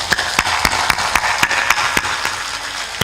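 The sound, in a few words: audience clapping hands raised high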